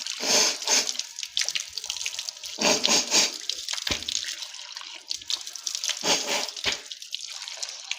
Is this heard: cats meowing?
no